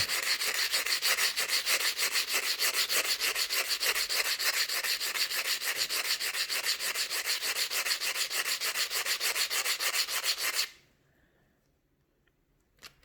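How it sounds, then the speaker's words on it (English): Wet-and-dry sandpaper rubbed by hand in fast, steady back-and-forth strokes, close and evenly rhythmic for about ten seconds, then cutting off abruptly into near silence with a faint knock at the end. "I'm doing it with sandpaper and by hand"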